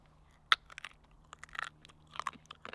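Crunchy bites and chewing of a salted roasted chestnut eaten in an off-grid forest cabin, with a sharp first crack followed by irregular close, quiet crunches.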